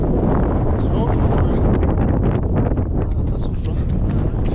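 Mountain wind gusting near the Sant'Anna di Vinadio sanctuary in the Italian Alps, a loud roaring buffet hitting the microphone throughout, rising and falling in surges, with speech faintly mixed in.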